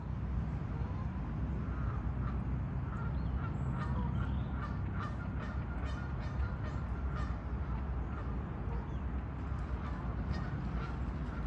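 Geese honking on a lake on a misty morning, repeated distant calls scattered over a constant loud wash of wind and water noise.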